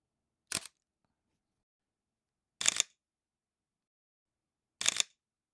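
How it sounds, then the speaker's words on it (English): A Panasonic S5 II's mechanical shutter fires three crisp, isolated clicks, each about two seconds apart, close and clear against silence. "With a mechanical shutter, the S5 Mark II can shoot up to 9 frames per second"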